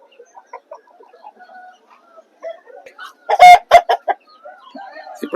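Roosters at a rooster market in Vijayawada cluck in short scattered calls, then one gives a loud, close crow midway, followed by more clucking and squawks.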